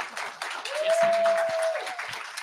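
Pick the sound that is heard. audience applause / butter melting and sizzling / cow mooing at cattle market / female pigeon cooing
audience applause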